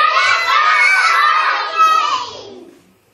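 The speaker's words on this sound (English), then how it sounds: "And you're all shouting the words great." A group of children shout one word together loudly at a show, a single sustained bright chorus of voices that holds for about two seconds and then fades away.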